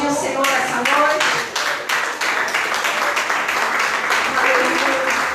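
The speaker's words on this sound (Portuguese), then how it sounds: "pode aplaudir o Senhor essa noite?" Church congregation at a women's worship service claps in a steady, rhythmic burst, loud and dense throughout.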